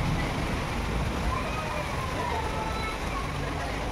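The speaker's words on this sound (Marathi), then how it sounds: "तुम्हाला आवाज येत असेल बघा पावसाचा." Heavy rain pours steadily outdoors as a broadband hiss and patter, loud and continuous throughout, with no talk over it.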